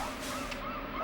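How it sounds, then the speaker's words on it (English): Honking bird calls in the Banjo-Kazooie video game, a brief goose-like cry over a steady windy backdrop in a high, open area with no music, short and fairly faint. "the lack of music and the wind blowing and the bird noises"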